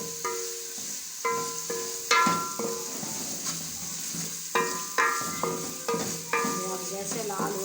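Ginger-garlic paste and whole coriander seeds go into a pan of cooking aloo gosht, giving a steady close sizzle of frying with spoon stirring and occasional sharp clinks against the pot.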